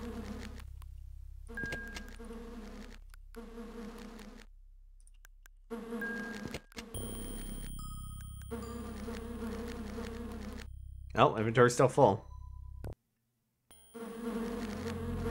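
In the video game Lands of Lore: The Throne of Chaos, bees buzz in short repeating droning bursts separated by gaps, with clicks and chimes from the game in between and a brief spoken remark over them.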